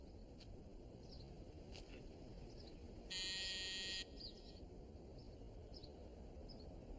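A door buzzer sounds once in a steady burst of about a second, standing out over quiet room tone with faint high chirps around it.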